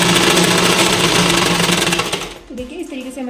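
A sewing machine stitching a four-tuck belt blouse runs in a fast, steady, loud whir for about two seconds, then stops abruptly, and a person starts speaking.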